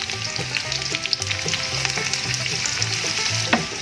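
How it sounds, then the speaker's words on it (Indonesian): Shallots, garlic and galangal frying in hot oil in a small wok for mie budhin, a loud, continuous crackling sizzle with bright spattering pops and an occasional scrape of stirring. "Sekarang masukkan bawang merah dan bawang putihnya,"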